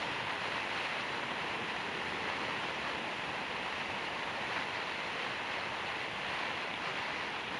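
Strong wind blows outdoors on the way to Tuz Gölü, a loud, dense roar of broadband buffeting that stays unbroken and steady throughout.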